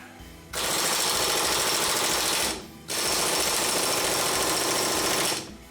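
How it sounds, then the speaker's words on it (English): Pneumatic impact gun with a 30mm socket hammering at a stuck bolt during a Porsche 914 brake and trailing-arm teardown, two loud sustained rattling bursts of about two seconds each with a short pause between. "now I'm going to grab a 30mm impact socket, put it on my impact gun here, and hopefully it will come out."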